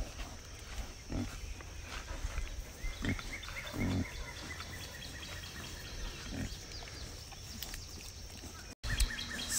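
Pigs on a farm grunt in short, scattered bursts over a steady background hiss, at moderate distance and with no talking.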